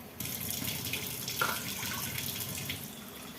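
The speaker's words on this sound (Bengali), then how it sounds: "মেপে মেপে জল দিচ্ছি, তা না হলে না অনেক বেশি হয়ে যায় চা" Water pours steadily into a pot for making tea, a close, continuous splashing stream that stops abruptly near the end, with no voices.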